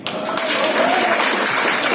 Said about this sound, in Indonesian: tepuk tangan untuk Bapak Rocky Gerung